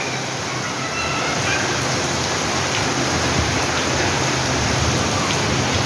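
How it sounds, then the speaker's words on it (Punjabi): Steady heavy rain pours down continuously, a dense even hiss filling the whole stretch with no pauses. "ਮੀਂਹ ਪੈ ਰਿਹਾ ਇਸ ਟਾਈਮ ਤੇ"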